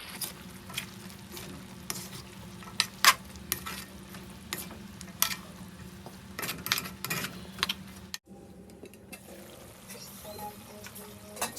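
A spoon stirs a pot of simmering pork stew with added string beans, giving scattered scrapes and clinks over a low bubbling sizzle at close range.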